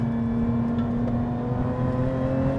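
A Lotus Emira with a supercharged V6 and six-speed automatic pulls hard in first gear, its engine a loud, steady drone with a rich layered tone that holds throughout, close up and without talk.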